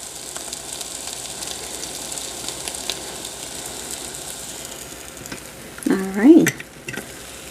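An egg cooks in a mini waffle maker. A faint steady sizzle runs throughout, then near the end comes a louder burst of clattering and scraping as the appliance is handled, close by, with no talk.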